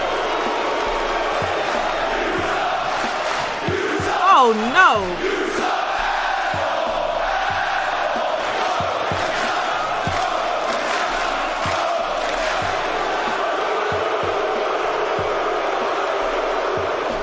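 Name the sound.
wrestling crowd booing Roman Reigns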